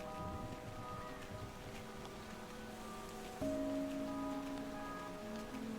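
Steady rain patters softly in the video game Endling: Extinction Is Forever, over a faint background with sustained tones, no voices, gentle and continuous throughout.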